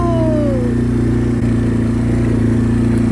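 A motorcycle engine runs steadily nearby at a Zec Buteux-Bas-Saguenay campsite, with a low rumbling idle carrying throughout and a brief rising whine early on, no voices over it.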